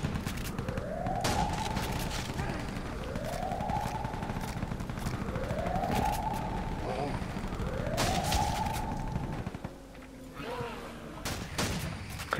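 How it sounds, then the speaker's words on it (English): In a Call of Duty World at War custom zombie map, turrets fire in repeated dense bursts under a recurring rising siren-like whine, with players talking over the gunfire. "The turrets actually frickin' shoot ya."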